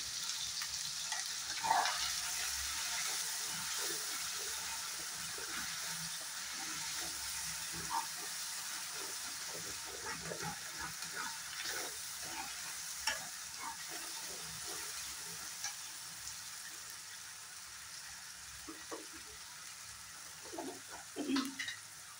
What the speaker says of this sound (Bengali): ফ্রাই করা মশলাগুলো এখন কড়াইতে দিয়ে দিলাম